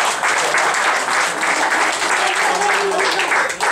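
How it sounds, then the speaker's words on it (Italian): Crowd at a political gathering in Rome applauding, loud sustained clapping from many people that holds steady throughout, with a brief murmur of voices beneath. "Un applauso"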